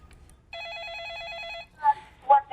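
A telephone rings for an incoming call, a single sustained warbling electronic trill lasting about a second, followed by two short voiced bursts.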